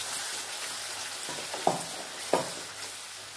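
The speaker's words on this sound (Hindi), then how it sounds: "अब हम हल्दी डाल देंगे थोड़ी सी, और ये पीसा हुआ मसाला, इसे हमें अच्छे से भूनना है।" Ground spice paste fries in oil with potatoes and turmeric in a pan, giving a steady close sizzle with a couple of sharp scraping stir strokes, and no voices.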